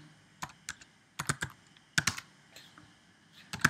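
Computer keyboard on a Mac, typing a terminal command: scattered crisp keystrokes in small clusters, close and moderately loud, over a faint steady background hum, with no speech.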